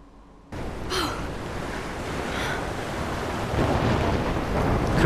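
Storm in the Life is Strange video game: a steady roar of wind and rumbling thunder starts abruptly after a brief quiet, then swells louder toward the end, with no speech.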